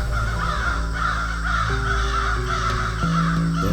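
Crows caw repeatedly in a cartoon jungle at night as birds take flight from the trees, loud, continuous harsh calls layered over a steady low background hum.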